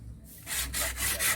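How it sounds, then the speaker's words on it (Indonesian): Rough, rhythmic rasping strokes of coarse sandpaper against wood, several back-and-forth passes close up after a brief quiet start. "Kita rapikan menggunakan amplas kasar ya."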